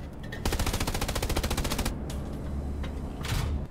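Gunfire in the World War II shooter Hell Let Loose: a rapid automatic burst of about fifteen evenly spaced shots, then a brief pause and a few scattered single shots, with a final short burst near the end.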